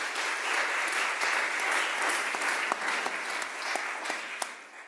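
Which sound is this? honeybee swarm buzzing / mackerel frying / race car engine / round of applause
round of applause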